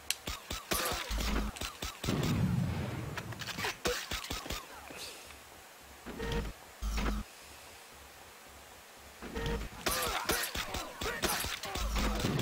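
Bursts of gunfire from a PlayStation video game crackle in rapid clusters, loud and close, separated by quieter stretches of background game sound.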